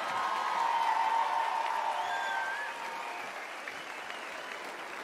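Audience applause at the final of a Slovácký verbuněk folk dance competition in Strážnice, dense steady clapping filling the space and tapering slightly toward the end, with faint crowd voices mixed in.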